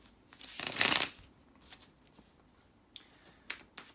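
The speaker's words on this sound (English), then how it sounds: "let me shuffle." A deck of tarot cards is shuffled in one quick, close burst of riffling, followed by a few soft, scattered card taps and flicks in an otherwise quiet room.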